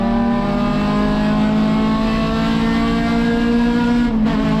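An Acura RSX race car's engine drones at sustained high revs on the straightaway at Laguna Seca during a USTCC race, heard steadily from inside the cockpit, with a brief dip near the end.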